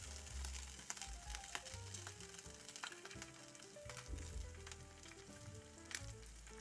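Chicken fillet fries in a little vegetable oil in a pan, giving a constant crackling sizzle with sharp pops scattered through it.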